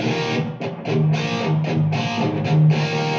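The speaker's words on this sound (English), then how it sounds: "you're hearing the feedback try to come up" An electric guitar through a Blackstar ID Core Stereo 10 V3 amp on a distortion setting rings with sustained, gritty notes while steady feedback tones swell up beneath them.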